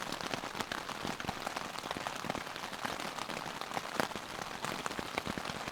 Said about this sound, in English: It's raining, so it's been raining the whole night.